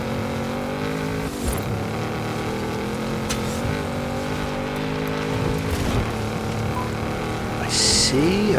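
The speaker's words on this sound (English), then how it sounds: "See a vehicle approaching over on the right." Engine of a Pro 2 racing truck in a racing video game, a continuous loud drone with shifting pitch as the vehicle approaches, steady throughout with a brief sharp accent near the end.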